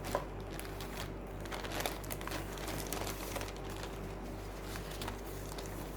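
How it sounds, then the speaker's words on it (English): Hands rummaging through a bag of paper strips for junk journaling, giving a faint, steady run of soft crinkles and rustles over a low background hum. "I've got a bag of paper strips."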